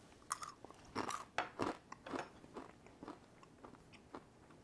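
Close-up crunching as crisp, seasoned roasted chickpeas are bitten and chewed, a series of sharp, irregular crunches of varying loudness.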